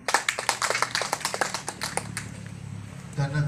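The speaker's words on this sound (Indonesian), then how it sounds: "Kita tepuk tangan dulu" Audience at an Indonesian planning meeting claps in a burst of sharp, close handclaps for about two seconds, thinning to scattered claps that fade into room murmur and a brief low voice at the end.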